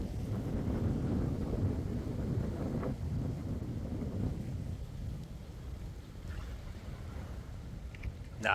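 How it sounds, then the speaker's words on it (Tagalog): Strong wind buffets the microphone at a lakeside resort, a continuous heavy low rumble with gusting surges, steady throughout. "Lakas ng hangin dito guys."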